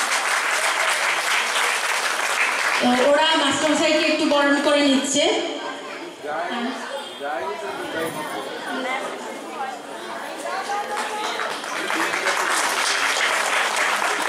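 Audience at an annual dance school cultural programme claps loudly and steadily, dense applause with chatter, continuing under a woman's speech before fading to murmuring.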